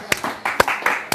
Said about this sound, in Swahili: Pigeni Nikita makofi bwana.